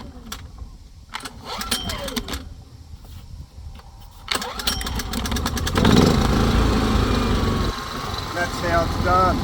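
A small generator engine cranks and catches after being primed and choked, first a few sputtering pulls and then a steady, loud running roar that fills the rest of the time, with some talk early on.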